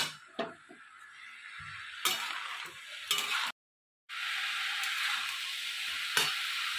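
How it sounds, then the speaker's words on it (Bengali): Banana flower fries with spice paste for mochar dalna in a pan, a close, steady sizzle broken by spoon scrapes and clinks against the metal, with a brief silent gap partway through. "এবারে আমি ভালো করে মোচার সঙ্গে মশলাটা ভালো করে কষে নেব।"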